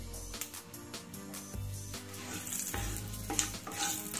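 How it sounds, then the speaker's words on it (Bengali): Cumin seeds crackling in hot oil as a tempering, a bright steady sizzle with irregular pops and occasional stirring clinks from the pan. "খুব সামান্য একটু জিরে ফোড়ন দিয়ে দেব"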